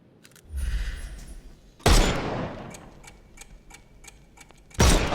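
Gunfire in the video game Sherlock Holmes Chapter One: two loud, sharp shots about three seconds apart, each with a ringing tail, over a quieter run of faint ticking clicks.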